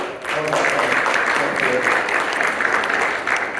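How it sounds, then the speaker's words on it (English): An audience at a digital marketing conference keynote in Charlotte, North Carolina, gives a sustained round of applause, steady and fairly loud, with a few voices mixed in. "Can we give another round of applause for Leah?"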